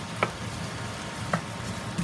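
Spicy Jamaican beef patty filling frying in a pan, giving a low, steady sizzle with a few light clicks and taps scattered through it, quiet and close, with no talking.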